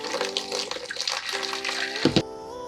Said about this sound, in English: open the bottom valve and drain the tank